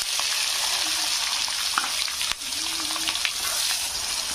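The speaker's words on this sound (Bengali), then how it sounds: "একটু ভাজা ভাজা হয়ে এলে এখানে দিয়ে দেবো পেঁয়াজ কুচি।" Chopped onions frying in mustard and white oil with cinnamon, cloves and cardamom, a dense, steady close sizzle with occasional stirring scrapes and clinks throughout, no voices.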